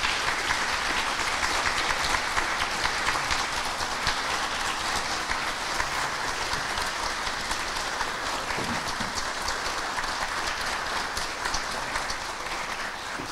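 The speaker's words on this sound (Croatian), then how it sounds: "ja ću vas zamoliti za jedan gromoglasan aplauz ako hoćete da izađe naš akademik Ferid Mujić" A large audience in Sarajevo gives steady, continuous applause to welcome academic Ferid Mujić onto the stage, a dense even clapping that holds at the same level throughout.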